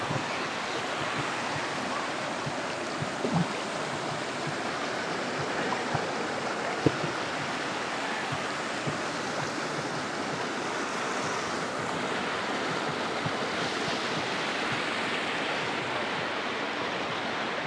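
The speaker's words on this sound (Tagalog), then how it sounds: "Ganda ng daloy, yung tubig." River water rushes and flows continuously, a broad steady roar with a few faint knocks, no voices, at the Akle river dam in Barangay Mabato, Maragondon, Cavite.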